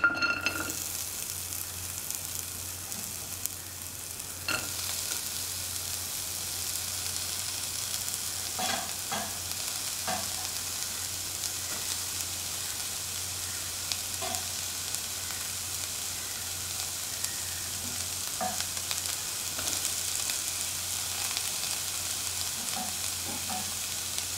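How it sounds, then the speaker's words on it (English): Shallots cut into pieces fry in a hot pan, giving a steady, moderate sizzle throughout with occasional clinks and stirring scrapes, no voices. "Heat the pan and put in the shallots."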